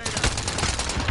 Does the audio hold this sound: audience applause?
no